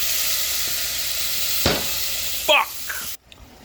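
Vegetables sizzling in hot oil for peanut butter ramen, cooked outdoors at Burning Man, a steady bright hiss with a brief clatter and spatter before it cuts off abruptly, with a voice briefly audible.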